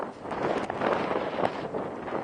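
Gusty wind buffets the microphone in rough, rumbling surges that rise and fall, with no one speaking.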